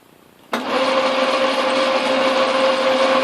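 An Atlas Craftsman lathe cutting threads at 16 threads per inch, starting abruptly from a low hum into a loud, steady mechanical whir with a sustained tonal whine that holds evenly to the end.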